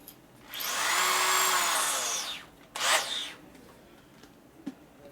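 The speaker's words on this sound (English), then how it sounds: "I'm gonna use a drill, new drill I was just using." A power drill whirs at a high pitch for about two seconds, then gives a second shorter burst, with quiet gaps around it, drilling during a 2001 Gilroy Indian motorcycle rebuild.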